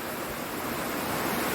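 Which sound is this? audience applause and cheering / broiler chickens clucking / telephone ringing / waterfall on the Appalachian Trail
waterfall on the Appalachian Trail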